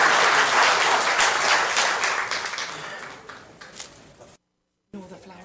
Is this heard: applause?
yes